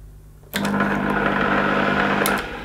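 A faulty vacuum cleaner with suspected electronic trouble switches on and runs roughly on low power, a sudden steady motor whine with a hum and rough buzz that holds for about two seconds before easing off.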